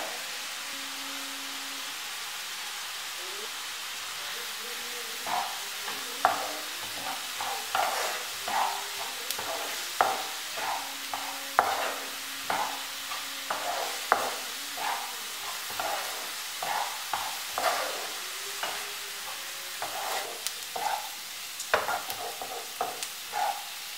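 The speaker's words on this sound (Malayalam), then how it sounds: "കുറച്ച് ഉപ്പും കൂടെ ചേർത്ത് നമുക്കിതൊന്ന് വഴറ്റാം." Sliced onions with salt sautéing in a pan: a soft continuous sizzle broken by repeated scraping and stirring strokes of a spatula at an uneven rhythm, close and clear with no talking.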